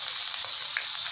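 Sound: pepper, cumin and ginger sizzling in hot oil

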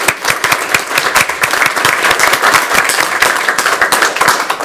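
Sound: applause

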